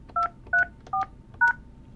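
Four short DTMF beeps from a Yealink T41P/T42G desk phone keypad as a voicemail password is entered, evenly spaced and clear over a faint hiss.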